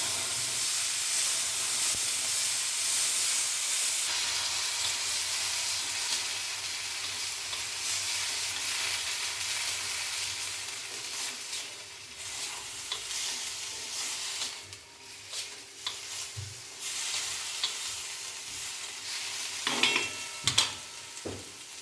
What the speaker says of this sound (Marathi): मिश्रण चांगलं परतून घ्यायचं.